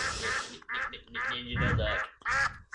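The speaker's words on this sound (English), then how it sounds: "There's actually a duck out there too." Duck quacking in a series of harsh, nasal calls with short gaps between bursts, fairly loud and close, with some voice-like texture throughout.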